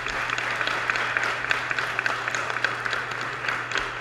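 Audience applause at a book presentation at a book fair: steady, dense clapping from a seated crowd, sustained evenly throughout without speech.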